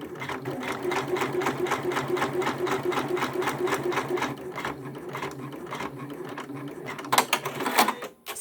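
A Janome embroidery machine resumes after a color change, stitching a locking tie-on with a fast, even mechanical clatter of needle strokes, then slowing into a few irregular clicks and knocks at the end.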